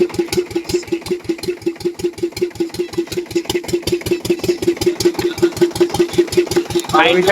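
Motor boat engine on a night fishing trip in the Sundarbans thumps in a steady, loud, close rhythmic putter, with a brief hiss near the end.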